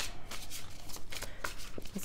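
Tarot cards being shuffled by hand up close, a run of soft papery riffles and slides with small taps that keeps going, and no one talking.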